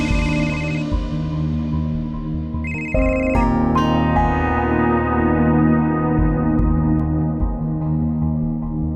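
A tonal electronic phone ringtone plays loudly, with a pitch shift partway through and a ringing echo that trails off.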